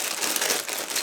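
A plastic bag full of plastic parts for a 1/72-scale model kit crinkles and rustles continuously for about a second, close and dense, with no talking.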